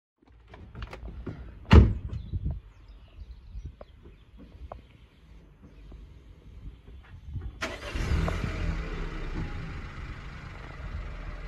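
A car sits close by, with a scatter of small clicks and knocks and one sharp bang before the engine fires and settles into a steady, fairly loud running hum for the last few seconds, no voices.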